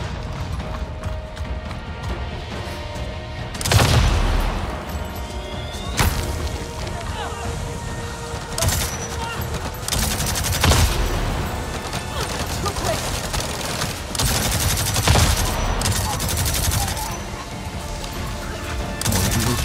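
Enemy gunfire in the video game Avatar Frontiers of Pandora, with sharp bursts of shots at uneven intervals over dense mechanical and metallic game noise and a steady background din.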